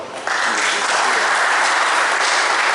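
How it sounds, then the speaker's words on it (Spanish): Strong, sustained applause from a lecture audience breaks out and holds steady as a dense wash of clapping, filling the room after an introduction. "para que pida un fuerte aplauso"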